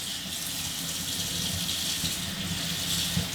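Steady running water pours from a tap to rinse the head of a Dyson Big Ball vacuum in a sink, a continuous broadband splashing rush held at an even level throughout.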